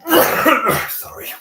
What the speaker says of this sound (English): Yeah, just a cough